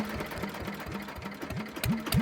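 On a small squid-fishing boat, the engine runs with an even, rhythmic chugging thump. The beat is fairly quiet and steady, then grows slightly louder near the end.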